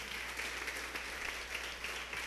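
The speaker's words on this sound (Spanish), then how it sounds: "Aplausos para Alexander." A church congregation applauds at a fairly low level, an even, continuous wash of hand claps with no speech on top.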